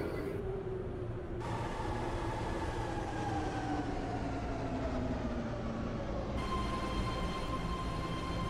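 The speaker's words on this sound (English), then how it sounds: "This is a Pittsburgh Bay Point train." A simulated 10-car, two-door BART Pittsburg/Bay Point train in a Roblox game rumbles continuously, with motor tones gliding downward as it slows toward a station, and the sound stays steady throughout.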